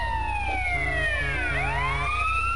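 Ambulance siren in GTA San Andreas, a loud, close wail whose pitch sweeps down and back up over a steady low engine hum, with no gaps.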